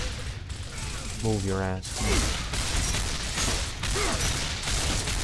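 Gunfire in Gears of War on PC, a dense fast-paced battle with loud repeated shots and clanking mechanical weapon sounds under a voice speaking briefly.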